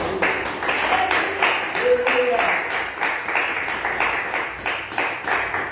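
Church congregation clapping in steady rhythmic bursts throughout a worship service, fairly loud and close, with voices talking and singing over it.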